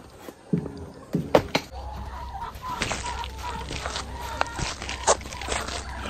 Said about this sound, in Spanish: pero el Hermenegildo Perea tiene mucha gallina aquí